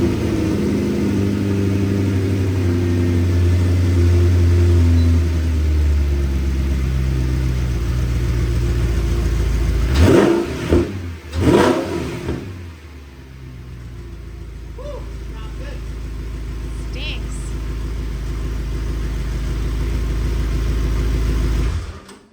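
A supercar fitted with a new titanium exhaust runs at a deep, loud, steady idle, with a couple of sharp revs mid-way before settling back into a low rumble, with voices talking over it.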